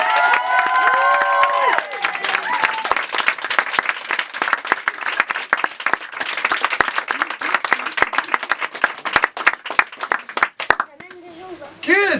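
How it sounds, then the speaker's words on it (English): An audience applauds a play, giving another round of clapping with scattered cheers and crowd noise, loud and continuous, with brief voices and musical tones near the start and end. "give another round of applause"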